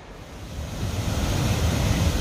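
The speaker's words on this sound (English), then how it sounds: "I'm gonna start my morning with a little side trip to go look at some waterfalls." South Fork Falls, a waterfall in a steep canyon, gives off a steady broadband roar that builds slightly louder and stays continuous, heard from a distance with no talking.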